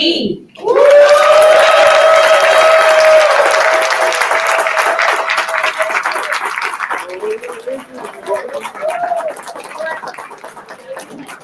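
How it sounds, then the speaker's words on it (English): Audience at a youth poet laureate live competition bursting into loud applause and cheers, strongest at first and then thinning into scattered clapping and whoops, with a voice speaking over the tail. "clap her up to the stage"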